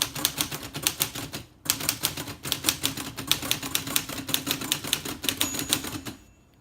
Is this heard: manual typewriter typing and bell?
yes